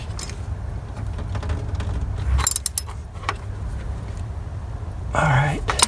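A ratchet works on starter motor mounting bolts on a Toyota Camry 3.0L V6, giving scattered clicks and metallic knocks under faint talk, with a sharper clatter near the end.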